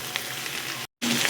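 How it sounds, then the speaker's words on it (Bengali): Winter vegetables stir-frying over a high flame for kachki fish chorchori, a steady close hiss of sizzling with faint stirring, briefly cut off by a moment of silence before resuming. "সবজিটা হাই ফ্লেমে নাড়াচাড়া করে নিয়েছি।"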